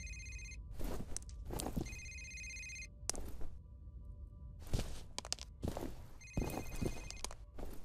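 A telephone rings repeatedly in a horror video game, its trilling bursts recurring every second or so over dull thumps, like footsteps, and low background hum, fairly faint overall.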